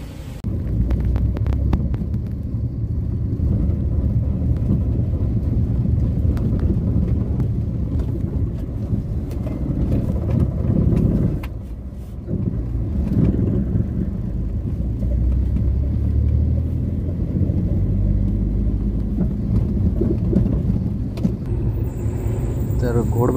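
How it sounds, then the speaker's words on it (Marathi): Steady low rumble and hum of heavy truck traffic jammed on the Ghodbunder highway near Mira Road, a continuous throbbing drone of engines that carries on throughout, with a voice speaking over it. "तर घोडबंदर हायवेवरती खूपच ट्रॅफिक आहे."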